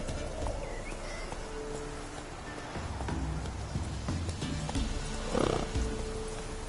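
Roach, a horse in The Witcher 3 video game, gallops with steady hoofbeats under continuous ambient noise, and a brief louder burst comes near the end.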